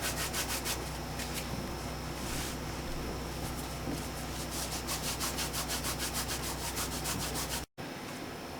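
Guitar frets rubbed with a fine abrasive sponge give a fast, rhythmic back-and-forth scrubbing, close and continuous for about eight seconds before stopping abruptly, with no talk.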